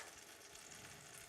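Soaked vegan French toast sizzles in a hot frying pan, a steady close crackling hiss that holds evenly throughout with no voices.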